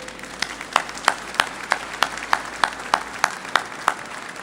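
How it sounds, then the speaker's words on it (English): A small group claps for the color guard at a ship christening ceremony, sparse, evenly spaced handclaps around three per second, moderately distant over a quiet outdoor background. "Get a round of applause for the color guard."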